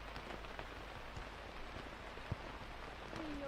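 Rain falling on a disc golf course at the Turku Open, a steady soft patter of drops on surfaces, with a faint tap midway and a brief tonal whistle near the end.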